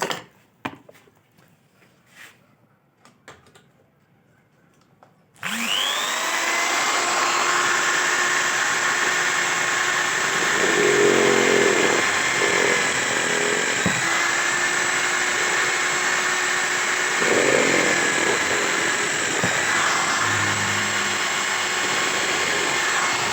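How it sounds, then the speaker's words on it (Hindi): An electric drill bores holes in an electric board. It starts suddenly after a few seconds of quiet handling and then runs with a loud steady whine, with brief changes in pitch as the bit bites, and no voices. "अभी मैं ना इससे ड्रिल से ये सारे सुराख लगाता हूँ"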